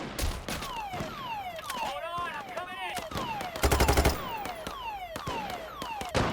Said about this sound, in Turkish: Keskin nişancı sıktı sana.